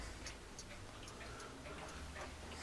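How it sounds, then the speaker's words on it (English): An antique Viennese regulator wall clock hanging above a fireplace ticks steadily and faintly, a quiet even rhythm of soft ticks in a still room with no talking. "This clock is a Viennese regulator"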